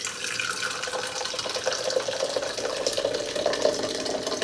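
Brewed coffee poured from a container into another vessel, a steady splashing liquid stream lasting several seconds, close and continuous.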